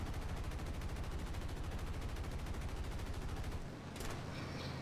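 Sustained automatic gunfire in War Thunder during a battle over Guam, a loud rapid stream of shots rattling without pause for several seconds before breaking off into one sharp burst.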